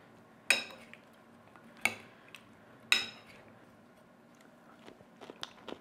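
A spoon tosses salmon dressed with cider vinegar, giving three sharp clinks against the dish spaced about a second apart, then a cluster of softer taps and scrapes.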